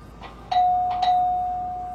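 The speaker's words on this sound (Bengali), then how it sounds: "ঠিক তখনই কলিং বেলের শব্দ" An electronic doorbell chimes twice in quick succession, its tone ringing on and slowly fading, fairly loud and close.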